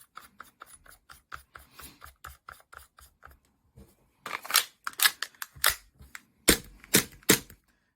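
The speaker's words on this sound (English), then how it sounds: "Stock cap, again, I'm going to put the stock cap on." Plastic clicks and snaps as a stock cap is fitted onto the outer barrel of a TM HK45 airsoft pistol, a run of quiet close taps followed by several louder, sharper clicks.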